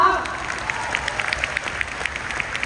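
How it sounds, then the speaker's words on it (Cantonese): A seminar audience breaks into dense, steady applause after a brief voice at the start. The crowd's claps blend into a continuous patter at a moderate distance. "一次過俾啲掌聲佢哋，好唔好？"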